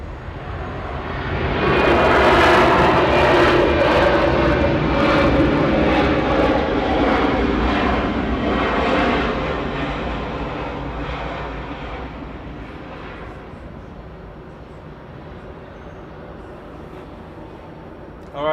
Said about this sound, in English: that one just landed